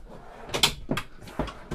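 Drawers in a motorhome being pulled open and pushed shut, a series of several quick, close sliding clunks and knocks in close succession.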